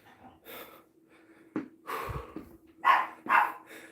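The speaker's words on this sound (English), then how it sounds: "The dogs are barking." Dogs bark in a few short bursts at a moderate distance, with breathing and soft room noise between the barks.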